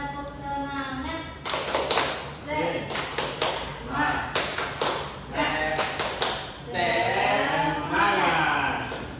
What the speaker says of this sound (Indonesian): Baik teman-teman, tepuk semangat.